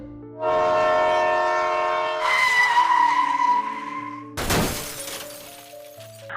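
Dramatized emergency braking of a passenger train before a derailment on a curve: loud sustained squealing brake tones build for several seconds, then a sudden heavy crashing burst, followed by a lingering tonal hum.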